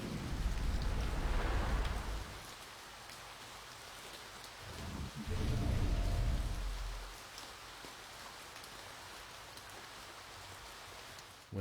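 Steady rain hiss in the video game To the Moon, with loud low rumbles like thunder near the start and again midway, then a softer continuous patter to the end.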